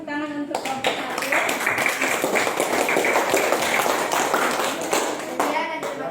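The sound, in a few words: class applause for a student group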